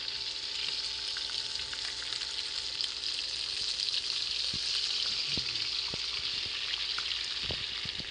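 Whole fish, including rohu, frying in hot oil, a steady bright sizzle with occasional low knocks and scrapes as the pieces are moved in the pan.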